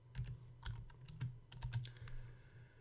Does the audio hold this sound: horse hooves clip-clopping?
no